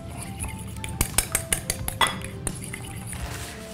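Eggs are beaten in a bowl for chicken ragout risoles, a quick burst of metal clinks and taps against the bowl, preceded and followed by quieter kitchen clatter.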